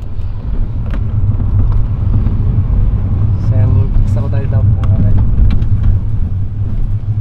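A Volkswagen Jetta TSI turbo sedan, still unmodified, accelerates hard through first and second gear, its loud engine roar droning steadily throughout while people talk excitedly over it.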